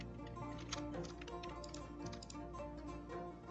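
Computer keyboard keys are tapped in a quick series of soft clicks at close range while working in Blender, over a steady low background hum.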